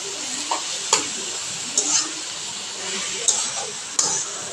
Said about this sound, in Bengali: একটু নেড়ে চেড়ে মিশিয়ে নেব ভালোভাবে, তারপরে একটু জাল করে তারপরে নামিয়ে নেব।